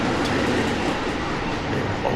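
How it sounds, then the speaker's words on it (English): An MBTA B Line light rail train in Boston rumbles past at close range, a steady broadband roar of wheels and motor with faint rattling, no voices. "There goes a MBTA B line train."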